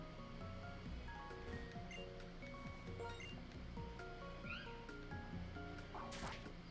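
A cat Pokémon's cry from Pokémon Black plays as short, bright chirping tones over game music and ambient noise, with a brief rushing burst near the end.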